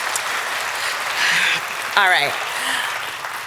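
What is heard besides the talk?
audience applause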